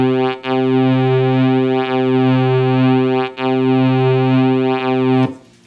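A Sequential Circuits Prophet 5 synthesizer plays a sustained buzzy tone with pulse width modulation and oscillator B off, its timbre sweeping in slow regular cycles, loud and alone, with brief breaks before stopping abruptly.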